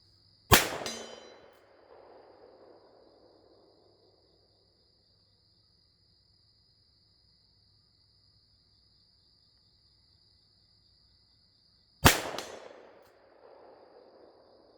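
Two .357 Smith & Wesson Model 19 revolver shots fired outdoors, each followed by a ringing clang off a steel plate down a hill, about twelve seconds apart, while a steady insect chirp carries in the background.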